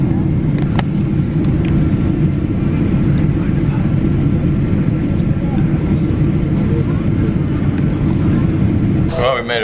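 Steady, loud airliner cabin drone during a flight home from Florida to London, a constant engine and airflow roar that holds evenly throughout, with a brief rustle near the end.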